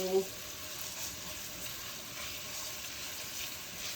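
Garlic searing in a hot pan for garlic shrimp in coconut milk, a steady soft sizzle at close range with a brief clatter at the start.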